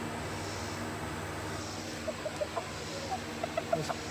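Chickens in a coop giving soft, short clucks in a quick series over steady fan-like background noise, fairly close and moderately quiet, with no talk.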